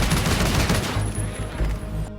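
The Oden rifle fires rapid, heavy bursts in Modern Warfare, loud and close. The shots are dense and repeating, then cut off abruptly at the end.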